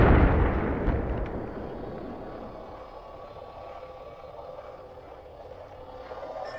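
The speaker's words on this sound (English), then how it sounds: "Throwing grenade." A grenade detonates in the Apex Legends video game, a loud low blast at the start that rolls off into a long, fading rumble with no talk over it.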